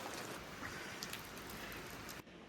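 Steady rain falls outside a camper at Karijini gorges, a constant dense patter that cuts off abruptly near the end.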